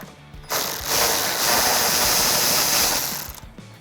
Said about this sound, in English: taking your 13mm socket, remove the 1 bolt on each side to release your grill